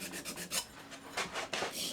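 A blade sharpened freehand on a stone to remove the burr, about six quick, close raspy strokes in an uneven rhythm.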